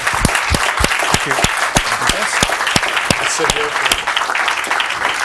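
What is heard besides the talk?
audience applause at an event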